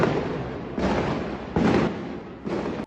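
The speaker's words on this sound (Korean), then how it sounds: "자정을 넘긴 시간이지만 곳곳에서 총성이 끊이질 않습니다." Gunfire crackles after midnight in a residential area of Yangon. Several loud, sharp bursts echo between the houses and come in uneven clusters with short gaps, with no voices.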